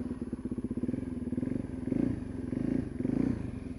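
A Suzuki DRZ400SM motorcycle pulls away from a stop with the clutch feathered, its single-cylinder engine putting out a rapid, thumping exhaust pulse that climbs in pitch in short surges, heard faintly from a moderate distance.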